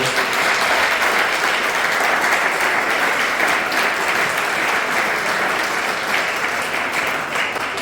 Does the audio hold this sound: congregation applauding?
yes